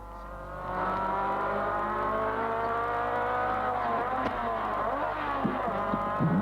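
A small racing car's engine at the 1980 Bathurst 1000 (James Hardie 1000) holds a steady loud drone, then shifts pitch up and down through gear changes, with faint tyre noise near the end.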